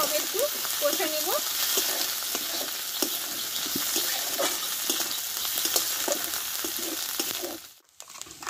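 Green chilli and ginger sautéed with turmeric in a pan for a vegetarian flat bean chop, a steady sizzle with scattered spoon scrapes and stirring, fading out near the end.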